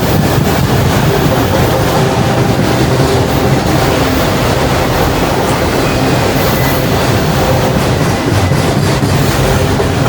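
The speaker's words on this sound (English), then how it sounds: "Nice long train here." A long train rumbles past in Walton, loud and close, with rhythmic clacking of wheels on the rails throughout.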